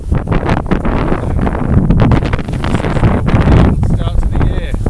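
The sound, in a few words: wind on River Humber while sailing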